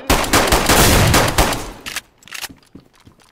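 Gunfire in the DayZ survival game, a rapid loud burst of automatic shots followed by a few scattered, quieter single shots and short bursts, close, with no talk.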